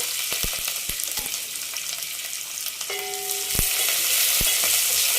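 Mustard seeds, cumin and onion sizzling in hot oil, a steady loud crackling hiss with scattered sharp pops and taps, the frying growing slightly louder toward the end.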